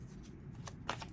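A deck of tarot cards being shuffled in a quick, close burst of riffling, the card noise rising in two bright flurries over a quiet room.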